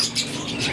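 Birds calling inside a bird shop at a Multan bird market, where rosellas, Amazon parrots, Java sparrows and golden doves are kept, a quick burst of close, high chirps lasting under a second.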